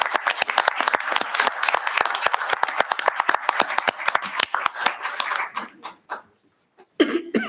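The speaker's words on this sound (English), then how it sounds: "one more round of applause for all the people who are such worthy recipients" Audience applause at a city council meeting honoring Earth Day award recipients, dense steady clapping from many hands for about six seconds, then thinning to a few scattered claps and fading out before a brief burst of noise.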